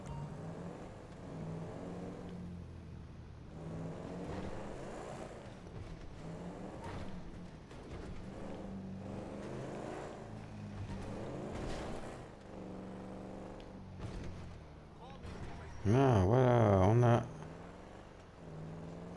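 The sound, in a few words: car driving in the video game GTA Online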